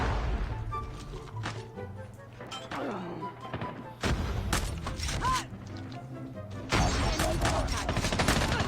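Bursts of rapid pistol and gunfire in Call of Duty Mobile, with repeated shots and thuds over game noise, loud and close, sometimes under a voice.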